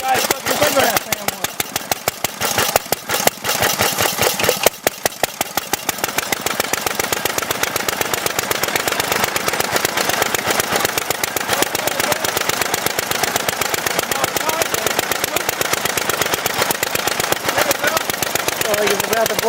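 Lawn mower engine chugging in a rapid, even pulse with a rough, loud knocking rattle close by, briefly faltering near the start before settling into a steady run as people talk over it.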